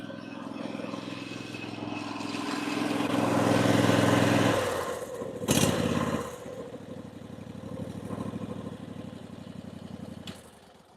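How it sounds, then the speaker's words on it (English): A small pressure washer engine runs loudly, then its pitch drops and it sputters and winds down as it is shut off, with a brief clank before it settles into a lower rough idle. "now I'm gonna shut the pressure washing engine off"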